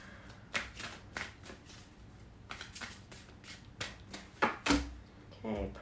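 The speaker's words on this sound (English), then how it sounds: "Cards are just flying out." Tarot cards shuffled by hand, producing quiet, irregular riffling bursts and soft slaps close to the listener, with a few louder snaps near the end.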